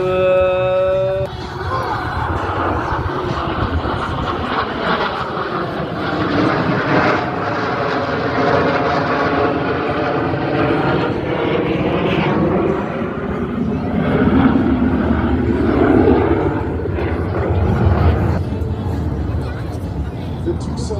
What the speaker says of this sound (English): The two solo pilots will next demonstrate the inverted flight capability of the F-18.